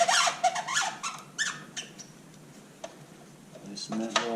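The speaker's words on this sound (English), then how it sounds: "Don't worry about it squeaking, it's because of the rubber." Squeaks come from a rubber-mounted side cover on a Honda CB125E motorcycle as it is worked loose, several short, close, high rubbery chirps in irregular bursts, some quiet gaps between them.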